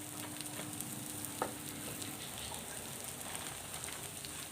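Grated coconut roasting in coconut oil in a pan gives a steady, soft sizzle and crackle, with an occasional faint stir or tap and no talking.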